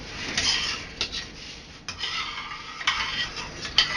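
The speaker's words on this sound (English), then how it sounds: "You have to stir it constantly while it's boiling." A spoon stirs boiling glaze for an apple cake in a pot, giving repeated scraping and rubbing strokes against the pot with small metallic clinks in an irregular rhythm, close and clear with no talking.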